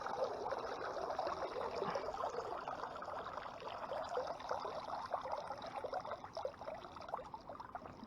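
Water pours and splashes steadily out of a minnow bucket crowded with minnows, a continuous close trickling rush with no talk over it.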